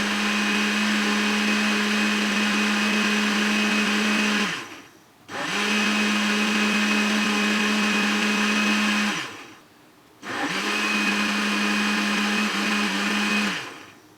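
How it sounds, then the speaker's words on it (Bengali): An electric blender whirs through fruit sharbat with sugar in three loud, steady runs of several seconds each, separated by brief pauses, with no talking. "চিনি দিয়ে ভালো করে ব্লেন্ড করে নেব।"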